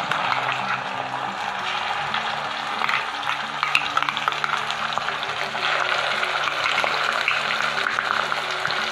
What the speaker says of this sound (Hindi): कांदा ना अपना पहले भुनी डार तेल में फ्राई करी डार